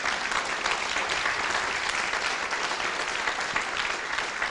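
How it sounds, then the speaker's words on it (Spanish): A church congregation claps together in steady, dense applause that fills the room, continuous and loud from start to finish. "Denle un aplauso para que la gente vea que sí están acá."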